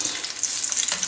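Prawns sizzle in a hot pan over a medium flame for a brandy and potato prawn dish, giving a steady, close, bright frying hiss with small crackles throughout and no talking.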